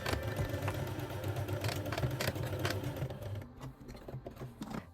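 A sewing machine stitches a label onto the center front of a pair of wide pants, a close, rapid mechanical chatter that runs steadily, then slows into short bursts near the end; no voices.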